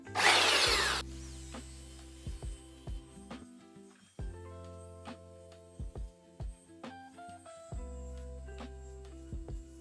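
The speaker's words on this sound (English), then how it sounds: "let's get started on sanding." A power sander rasps loudly against wood at first, then runs as a lower motor whir broken by repeated knocks and clicks.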